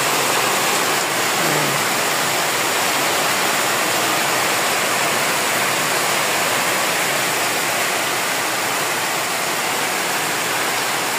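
Heavy typhoon rain pours down outside near a hut, a dense, steady roar of broadband water noise that stays loud and unbroken throughout, with no voices.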